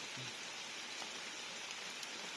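Steady rain falls evenly as a dense, continuous hiss of drops on surfaces, close and unbroken throughout, with no voices.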